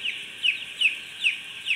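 Broiler chickens in a coop give off high, evenly spaced peeping clucks, four or five calls repeating in a steady rhythm over a quiet background, moderately close.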